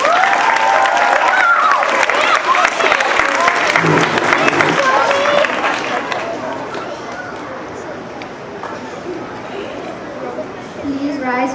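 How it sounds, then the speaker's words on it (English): Audience at a school assembly opening for Space Week applauds student council officers, with dense clapping mixed with chatter and a few cheers, fading toward a quieter murmur of voices in the second half. "Please give a round of applause for Evan and Satomi."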